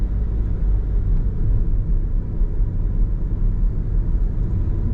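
Car driving through the streets of Macau's Taipa area in the evening, a steady low engine rumble and road noise from inside the vehicle, continuous and fairly loud without any talk.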